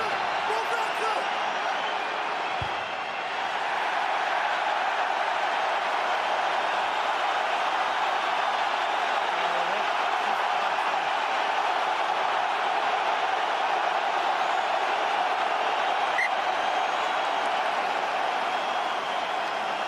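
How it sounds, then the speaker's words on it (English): A huge rugby crowd at the Aviva stadium during an Ireland versus South Africa match, a loud, continuous wash of roaring that holds steady throughout, with speech faintly present. "just listen to this stadium when they realise what's happened"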